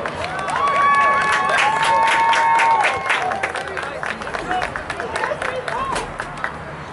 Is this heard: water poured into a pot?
no